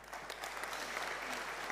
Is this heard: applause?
yes